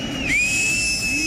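Loud shrill whistling blown by people in a crowd during a cloudburst flood disaster in Dharali, with one sustained piercing tone that bends in pitch and holds steady.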